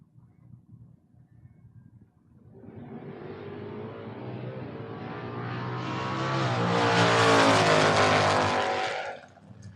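A Vega wagon and a Camaro launch side by side at a drag strip, engines rising from a low rumble to a loud, swelling roar that peaks and then fades as the cars tear away down the track.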